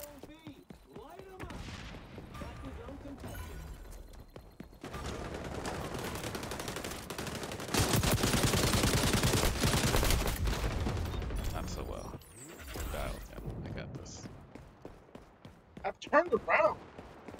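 A light machine gun firing in XDefiant, a loud sustained stream of automatic shots in the middle, with scattered gunfire and a player talking before and after.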